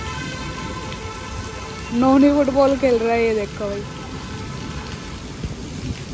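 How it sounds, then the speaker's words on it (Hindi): Heavy rain pours down steadily outside a house in the first rains of the season, a constant close wash under a person speaking in Hindi. "बहुत तेज बारिश आ रही है, बहुत तेज।"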